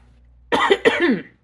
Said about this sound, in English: I still may cough a little bit